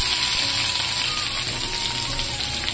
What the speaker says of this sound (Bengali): এবারে আমি কুচিয়ে রাখা পেঁয়াজগুলো দিয়ে দেব।